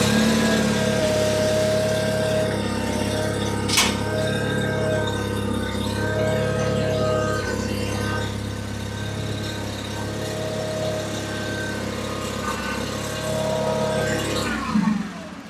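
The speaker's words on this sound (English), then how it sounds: "we can get back on the tractor, start it up." A John Deere 318 garden tractor engine runs at a steady idle throughout, close by and continuous, with a brief clunk partway through and a slight change near the end.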